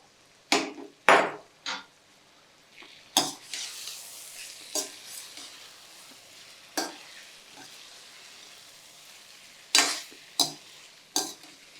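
Paneer stirred in a sizzling pan for vegetable Hyderabadi biryani: irregular loud knocks and scrapes of a spoon on the pan over a soft frying hiss, close by.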